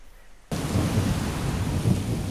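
Heavy rain suddenly bursts in after a quiet moment, a loud steady downpour with deep rumbling thunder rolling underneath.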